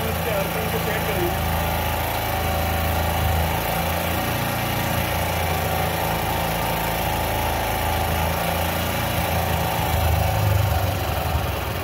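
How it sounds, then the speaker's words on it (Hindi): A two-wheeler engine runs loud and close while its carburetor RPM screw is adjusted, a constant buzzing drone that swells slightly near the end, with someone talking over it. "ये कार्बोरेटर पर हमने एक स्क्रू ड्राइवर को लगाया हुआ है, यहाँ से हम आरपीएम को देख रहे हैं, आरपीएम बढ़ रहे हैं।"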